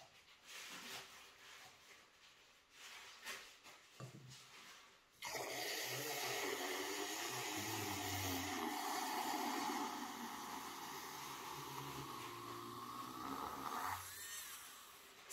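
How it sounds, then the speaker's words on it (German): A steady electric milk frother whirring starts abruptly partway through and runs continuously to the end, loud and even, with a faint watery churn beneath. "jetzt will ich mal zeigen, wie das Teil als Aufschäumer funktioniert"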